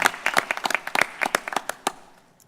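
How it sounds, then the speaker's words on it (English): Round of applause at a school board of education meeting: a short burst of scattered hand clapping from a modest group, irregular claps that thin out and fade over a couple of seconds. "Can we give her a round of applause as well?"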